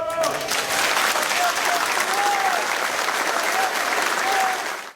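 Steady applause from a crowd at the Arena Grêmio stadium, continuous clapping with a few voices calling out faintly underneath, fading away at the end.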